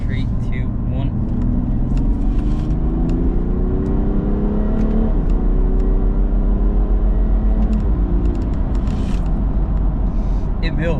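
A BMW 435d in Sport mode accelerates hard from a roll at about 50, engine tone climbing through quick, aggressive gear shifts, loud and steady from inside the cabin with a voice talking over it.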